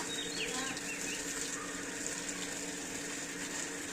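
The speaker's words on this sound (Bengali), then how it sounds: "পানি দিতেছে" Water poured onto Malabar spinach plants in a village yard, making a steady, continuous gushing and splashing at moderate level for the whole stretch, with no talk.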